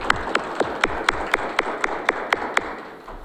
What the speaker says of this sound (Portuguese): A Deise, a nossa salva de palmas.